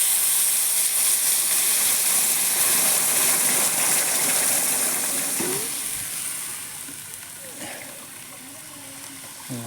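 Water poured into a hot pan of lentils hisses in a loud, steady sizzle that slowly fades as it settles, with faint clinks near the end.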